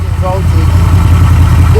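A car engine idles with a steady low, even rumble close by while it runs during a voltage check, with no voices over it.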